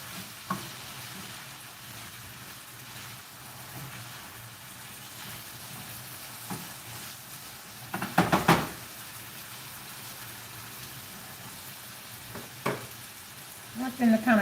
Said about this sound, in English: I needed to come over here and stir my potatoes